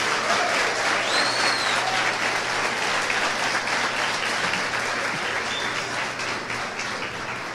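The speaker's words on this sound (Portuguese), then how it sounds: "Então aplauda o Senhor Jesus," A church congregation applauds loudly and steadily during a sermon, a thick wash of many hands clapping together that holds for several seconds with faint crowd noise beneath.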